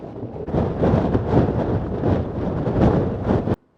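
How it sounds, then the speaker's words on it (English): Strong gusty wind on the Pembrokeshire coast buffets the microphone with loud, rumbling roars in rising and falling surges, then cuts off abruptly near the end. "It's very windy."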